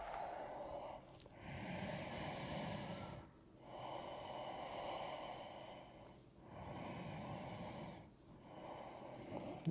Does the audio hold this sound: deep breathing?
yes